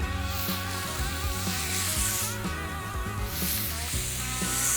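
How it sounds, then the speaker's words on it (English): Balls of smashburger beef sizzling on a hot grill heated to just over 400 degrees: a steady, loud frying crackle with occasional pops, close and alone, with no talking. "Now we'll get our burger balls in."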